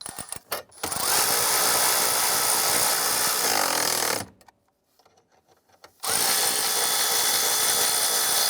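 A power drill tightens screws on a Chrysler 300 ignition switch in two loud, close bursts of steady whirring, each lasting a few seconds, separated by a brief quiet pause, with no voices.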